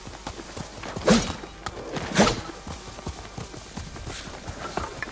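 Hooves of a horse in Ghost of Tsushima beat in a steady, soft clopping rhythm, with two heavier thuds standing out early on.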